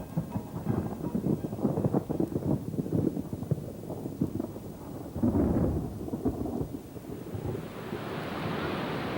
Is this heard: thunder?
yes